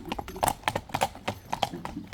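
A large horse's hooves clip-clop in a steady walking rhythm, close and fairly quiet.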